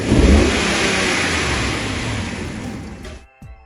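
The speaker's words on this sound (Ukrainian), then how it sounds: "І тепер повний газ і глуши." A RAM 1500 pickup's 5.7 Hemi V8, diagnosed with a misfire in the first cylinder, revs hard at full throttle in one loud close burst, then is abruptly shut off, leaving silence and a brief clunk.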